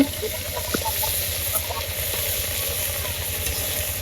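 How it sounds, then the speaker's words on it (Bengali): Phutki fry in a little oil, giving a continuous close hiss and sizzle over a low steady hum, with a few faint clicks of stirring. "ফুটকিগুলো খুব সুন্দর করে বেজে নিব তেলটা না দিলে ফুটকিটা পুড়ে যাবে"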